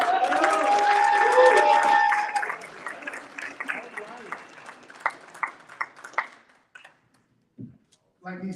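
An audience at a motivational talk applauds an honoured guest introduction, loud sustained clapping at first, then thinning to scattered individual claps before fading into quiet.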